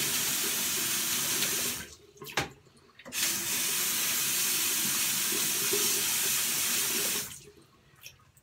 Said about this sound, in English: Now I am cleaning the blade with cold water.